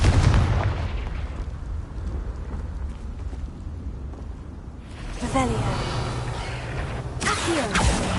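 A Confringo blasting spell goes off in a Harry Potter video game, loud booming bursts with whooshing rumble and crackle, followed by a second impact later, with a voice shouting the spell name over it.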